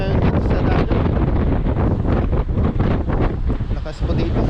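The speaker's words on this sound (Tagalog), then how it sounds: "pagpasensyahan nyo na po kung maingay yung ating video ngayong araw sa sobrang lakas po ng hangin" Strong wind roars steadily into the microphone by a rough sea with big waves, a loud continuous buffeting rush with gusty dips throughout.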